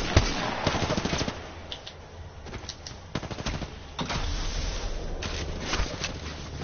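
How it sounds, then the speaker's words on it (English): Rapid bursts of automatic gunfire from a firefight in the Apex Legends video game crackle in repeated volleys with sharp single shots between them, loud and close throughout. "They spotted me. I'm taking shots."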